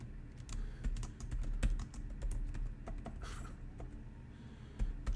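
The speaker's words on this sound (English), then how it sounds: "Just enter text from the keyboard." Steady typing on a computer keyboard, a dense run of quick, close key taps with a few louder strikes, with no voices.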